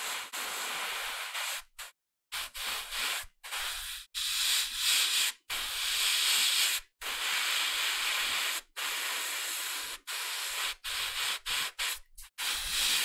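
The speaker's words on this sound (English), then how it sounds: "I'm really focusing on making sure that I spray from underneath, really capturing those folds" Airbrush spraying paint onto a miniature figure of Baron Mordo, shading the folds of its robes, with repeated bursts of close, steady hissing broken by short pauses, no talking.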